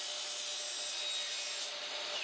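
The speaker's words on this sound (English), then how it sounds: "Cut the top section of the block to the same angle as the rail." Saw cutting at an angle through the top of a composite wood foot block for a stair railing, a continuous close, bright rasping hiss with no pauses.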